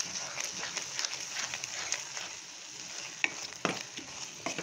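Mutton frying in a pan sizzles steadily while a spoon stirs it, scraping in irregular strokes with a few sharper knocks. The sound is close and carries no speech.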